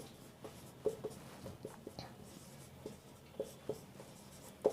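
Maths working is written out in powers form: faint, scattered scratches and light taps of a pen on a writing surface over nearly five quiet seconds, with no talk.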